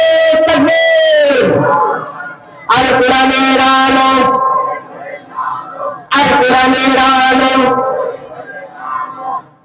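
A large crowd at an Islamic religious gathering roars in unison in three loud, long bursts of chanting "Allahu Akbar", separated by brief pauses, the voices massed and reverberant.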